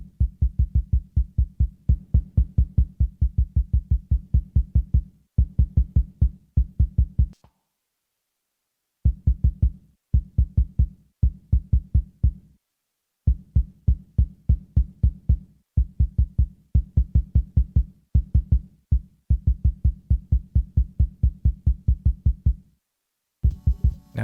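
Low-pass-filtered kick drum on a Sonicware Lofi-12 XT, playing a steady repeating pattern of deep thumps in bars with short gaps, loud and dry with no voice.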